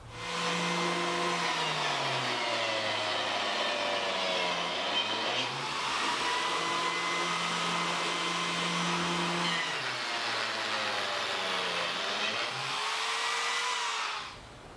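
A power tool cuts slots for wood biscuits in boards being joined for an outdoor kitchen cabinet, its loud steady whine held close and continuous for about fourteen seconds, dipping slightly in pitch as it bites and then cutting off.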